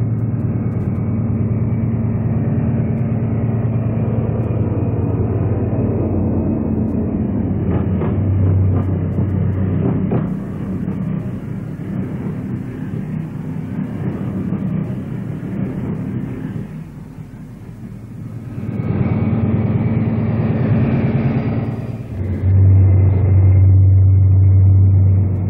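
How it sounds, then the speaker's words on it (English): A Pullman train from archive British diesel and electric traction days departs, its heavy diesel engine droning loudly and steadily with rising and falling throb, swelling again toward the end. "Another Pullman departure."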